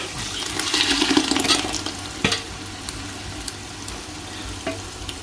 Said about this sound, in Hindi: और इस टाइप पे मैं इसमें टमाटर और हरी मिर्च का पेस्ट डालूँगा।